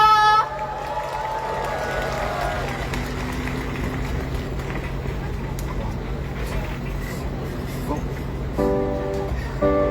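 A university festival crowd applauds and cheers a singer's entrance on stage, a dense, loud, sustained roar of clapping and voices, with brief tonal music or voice sounds at the start and end.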